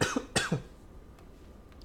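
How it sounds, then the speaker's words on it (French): A person coughs twice in quick succession, close and fairly loud, then quiet room tone follows with faint small sounds. "Je vais tousser."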